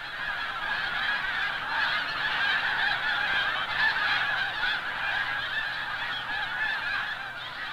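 A flock of snow geese honks continuously as the birds arrive over cornfields planted for migrating waterfowl in autumn, a dense, steady chorus of overlapping calls at moderate distance with no voices.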